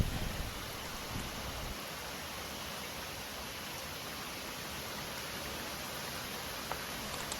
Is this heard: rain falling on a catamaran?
yes